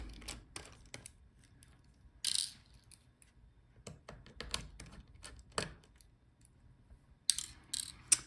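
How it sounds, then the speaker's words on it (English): A small screwdriver backs out the motherboard screws of a Dell Latitude 7430 laptop, giving sparse, faint ticking clicks and short scrapes at irregular intervals with no one speaking. "Here we are unscrewing the motherboard."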